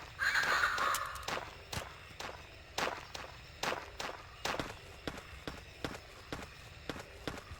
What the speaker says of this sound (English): Thumping dinosaur footsteps.